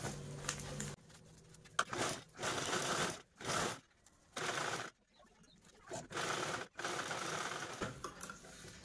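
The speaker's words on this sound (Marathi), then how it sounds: "आता यानंतर आपल्याला दुसरा पार्ट पण यावरती अशा पद्धतीने झिप आहे ती स्टिच करून घ्यायची आहे" A sewing machine stitches a zip onto a tiffin bag made from an old saree, running in several close, loud bursts of rapid stitching separated by short pauses.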